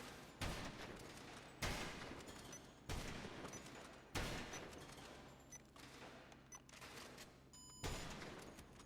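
Repeated gunfire from a GTA Online shooting range, with loud, close bursts of shots about every second or two, overlapping in rapid volleys with sustained rumbling between them.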